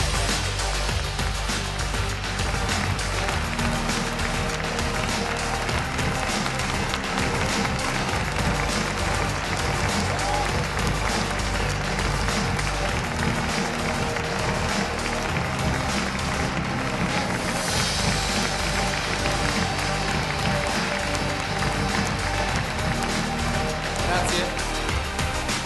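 Sustained, dense audience applause for the Lamborghini workers fills a large hall at the Lamborghini Urus world premiere, loud and unbroken for the whole stretch, with voices mixed in.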